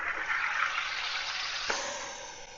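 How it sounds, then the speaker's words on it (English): A SodaStream carbonating water as its top is pushed down, a steady loud hiss and gush of gas into the bottle lasting a couple of seconds, with a brief click partway through. "then we carbonate the water by pushing down"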